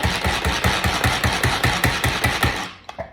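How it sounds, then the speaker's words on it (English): A manual pump food processor chops fresh cilantro: a steady rapid run of rhythmic whirring ratchets and plastic clunks, about a dozen even strokes, then it stops with a final knock. "we're going to just open up the handle here, and we're gonna start pumping"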